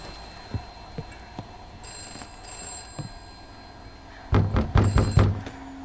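In a horror video game, a telephone bell rings in repeated bursts amid scattered thumps, ending in a loud cluster of ringing and knocks.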